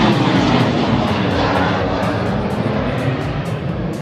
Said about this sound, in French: Il y a beaucoup d'avions ici